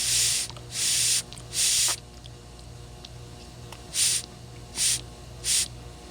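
Short puffs of air blown through the check valve of a Walbro HDC carburetor, five breathy hissing bursts in an uneven rhythm, close and fairly loud, with quiet gaps and a low steady hum between them.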